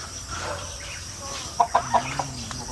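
Chickens cluck outdoors, a few short, distinct clucks in quick succession over low background ambience with faint insect-like noise.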